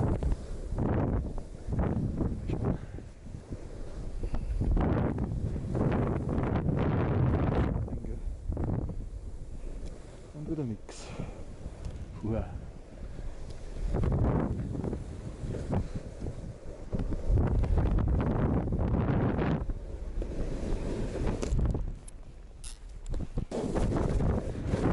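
Loud blustery wind roaring across the mic during a snowkiting session in hazy Obertauern, rising and easing in gusts over a steady rush, with no talking.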